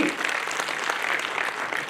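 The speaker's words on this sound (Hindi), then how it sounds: "ताली मारिए तो जोर से मारिए ना" An audience claps during a speech on culture, a continuous crowd of hands forming a steady, moderately loud patter throughout.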